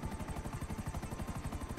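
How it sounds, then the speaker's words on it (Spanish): A police helicopter in the game GTA V Online, its rotor beating in a fast, steady, even rhythm, loud and close, with a constant engine whine underneath and no voices. "¿Y ese helicóptero que spawnea aquí?"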